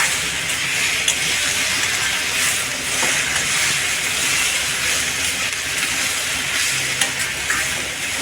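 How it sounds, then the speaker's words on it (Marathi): Mixed vegetables for Hakka noodles are stir-fried briefly in a hot pan, giving a constant loud sizzle with scraping stirs and occasional clinks of a spatula, with no voices. "भाज्या थोड्याशा परतून घ्यायच्या, जास्त शिजवायच्या नाही"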